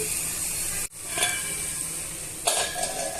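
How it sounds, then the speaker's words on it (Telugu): Carrot pieces cooking in a pan for semiya upma, a steady close sizzle broken by a few brief spoon clinks and stirring scrapes, no talk. "ఇప్పుడు ఇవన్నీ కూడా మనము మగ్గించుకోవాలండి క్యారెట్ ముక్కల్ని బాగా మగ్గనివ్వాలి"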